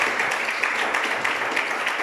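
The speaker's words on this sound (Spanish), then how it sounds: "Demos un fuerte aplauso al nombre de nuestro Señor" A church congregation applauds in a continuous wash of many hands, steady and fairly loud, with no distinct speech on top.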